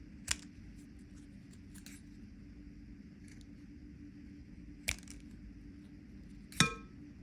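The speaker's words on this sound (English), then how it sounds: "I'm just going to snip those right off." Scissors snip corners off paper in three sharp, isolated cuts spaced a couple of seconds apart, close against a quiet room hum.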